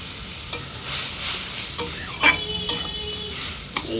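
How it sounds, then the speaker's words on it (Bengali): Mustard paste hitting a hot pan sizzles steadily at moderate volume, with a few light clicks and scrapes of stirring spread through it and no voices. "এবার এই যে সর্ষেটা যেটা গুলিয়ে রেখেছিলাম সেইটা দিয়ে দিলাম।"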